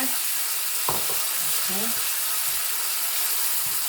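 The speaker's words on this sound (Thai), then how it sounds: "ใส่เห็ดไปผัดเลย" Oyster and honey mushrooms hitting a hot pan for stir-frying alongside pork tenderloin, giving a steady loud sizzling hiss throughout, with a few soft scrapes and knocks of a spatula stirring underneath.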